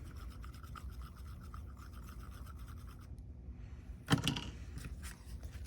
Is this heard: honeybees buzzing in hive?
no